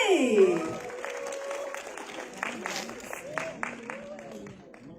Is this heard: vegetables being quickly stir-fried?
no